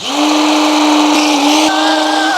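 A food processor chopping apples whirs loudly and steadily, its motor pitch holding even and then shifting higher partway through, with chopping noise underneath.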